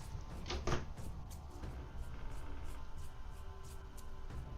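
A door opening to let a cat outside, heard as a short scrape and clunk of the door early on, followed by quiet room ambience with faint handling noises.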